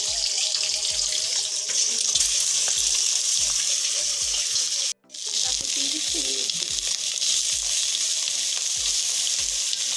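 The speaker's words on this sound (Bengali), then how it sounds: "ডিমটা একটু ভাজা ভাজা করে নেব।" An egg fries in a pan with a loud, dense, continuous sizzle, close up, broken by one brief drop to silence midway, with faint low knocks of stirring beneath.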